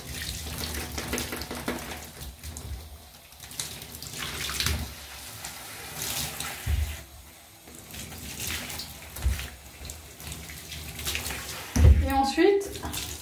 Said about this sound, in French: on rince bien jusqu'à ce qu'il n'y ait plus du tout de mousse